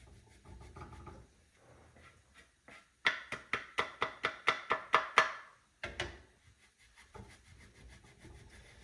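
Cheddar cheese rubbed quickly across a metal grater in a home kitchen, about a dozen rhythmic rasping strokes in a fast run, close and clear, with quieter scraping before and after.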